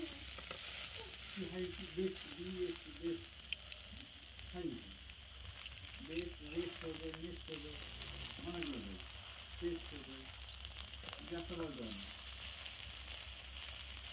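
Banana flower fritters frying slowly in oil over a low flame, a soft steady sizzle with faint bubbling, heard close and low, while a person talks over it throughout.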